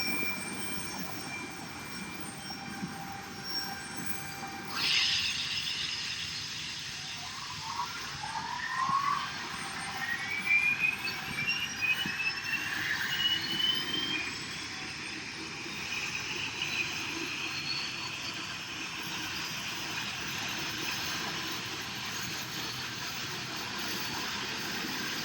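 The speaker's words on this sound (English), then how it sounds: "Jet engines truly are amazing feats of engineering" A jet engine running with a steady broadband roar and rising whine as it spools up, continuous and moderately loud throughout with no voices.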